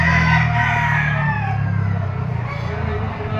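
Golden Boy Boston, a three-year-old gamecock at the Lipa auction market, gives a drawn-out crow that fades over a few seconds, with other fowl and market noise behind it and someone talking.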